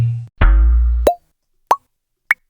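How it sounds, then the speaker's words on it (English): Recorded pineapple sounds, pitch-shifted: a sustained low, buzzy tone swells and cuts off with a quick upward-bending blip, followed by two short, separated plops, each gliding in pitch, with silence between. "let's just take some of those pineapple sounds we recorded and pitch shift them around"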